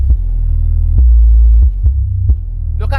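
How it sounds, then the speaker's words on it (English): Heavy subwoofer bass from a car audio system with an 80 Hz low pass filter throbs loudly, with deep sustained booming notes and a brief higher sound at the end. "the bass is getting louder"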